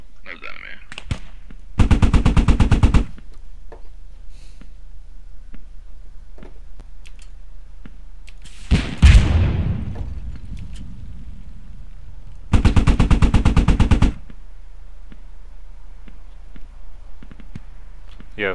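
Two long bursts of rapid automatic rifle fire in the military shooter Squad, loud and close, with a sharp single blast between them and quieter clicks and distant shots in the gaps.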